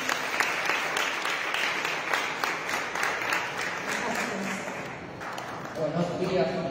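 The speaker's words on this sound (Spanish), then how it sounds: "Un aplauso para él." Audience applause at a Spanish-language municipal school reading event, a steady wash of clapping over several seconds that thins toward the end while voices carry on under it.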